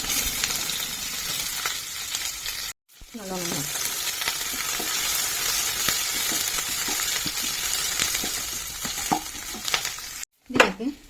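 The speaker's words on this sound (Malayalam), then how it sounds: "കടുക് പൊട്ടി. ഇനി ഇതിലേക്ക് ഉള്ളിയും പച്ചമുളകും" Onions and green chillies fry in a pan on the stove after mustard seeds have spluttered, giving a loud, continuous sizzle with scattered crackles and a few stirring scrapes. A voice briefly speaks near the end.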